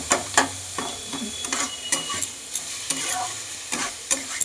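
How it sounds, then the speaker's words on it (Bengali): Vegetables with green chilli paste sizzle in a pan under repeated scraping spatula strokes, a quick uneven rhythm over a steady frying hiss. "এবার সব দিয়ে ভালো করে একটু নেড়ে নিই"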